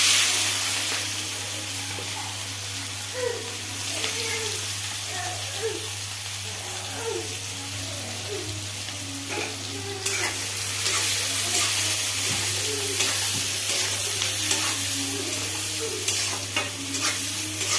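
Chopped onion frying in oil spiced with black cardamom, cinnamon, dried chili, bay leaf and peppercorns, a steady loud sizzle with stirring scrapes throughout and a constant low hum underneath.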